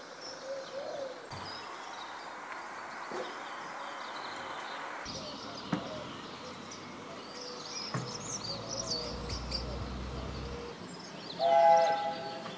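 A steam train on the Watercress Line pulls in from Ropley during a spring steam gala, a rolling rumble of wagons building under outdoor ambience and birdsong, with a short whistle blast sounding close near the end.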